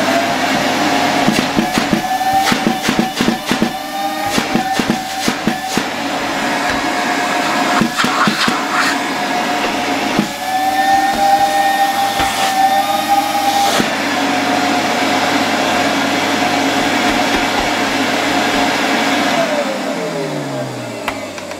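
A Zelmer vacuum cleaner runs steadily with strong suction, a continuous loud whining drone with occasional clicks and bumps, lasting throughout.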